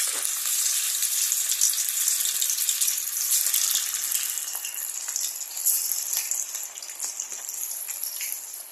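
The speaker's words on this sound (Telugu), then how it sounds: "ఆయిల్ వేడైన తర్వాత ఒక్కొక్కటిగా వేసుకోవాలి" Methi (fenugreek leaf) vadas fry in hot oil: a loud, continuous, close-up sizzle and crackle that holds steady throughout, with tiny pops scattered through the hiss.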